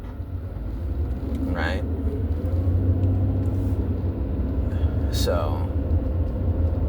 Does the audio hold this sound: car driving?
yes